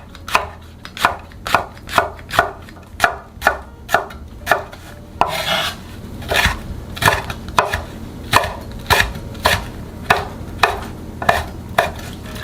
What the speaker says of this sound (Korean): 송송송 잘라주세요.